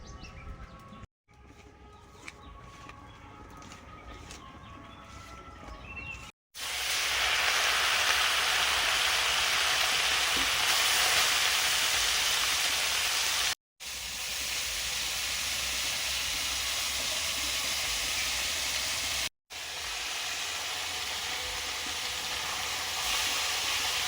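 Small fish coated in salt, turmeric and chilli powder fry in hot oil with a loud, continuous sizzling hiss that cuts out briefly a few times.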